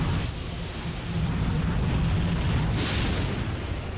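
Kongol's Golden Dragon magic attack in Legend of Dragoon erupts as a sustained, heavy explosive roar, loud and broad throughout with a swell near the end and no talk.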